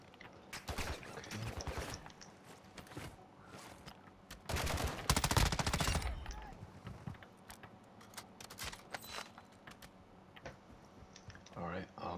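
Gunfire in the Call of Duty video game: scattered shots and clicks give way to a dense, rapid burst of automatic fire in the middle, then sparse shots again, fairly faint and mixed with keyboard typing and a voice talking.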